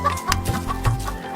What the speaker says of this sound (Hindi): उसके पास बहुत सारी मुर्गियां थीं, मुर्गा